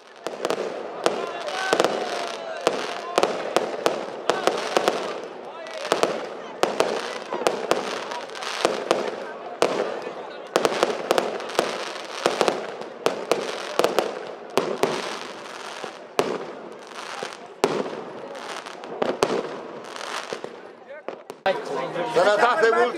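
New Year's Eve fireworks bursting outdoors in Medgidia, sharp repeated explosions and crackles in irregular clusters, loud and near, with people talking and calling out between blasts.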